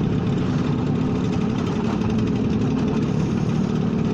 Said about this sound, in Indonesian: Dan ini Vespa Super 150 cc katanya